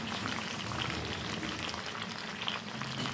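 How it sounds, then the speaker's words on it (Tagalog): Okra frying in hot oil, a dense, continuous close sizzle and crackle with no talk over it, steady throughout. "Iprito natin. Fried okra."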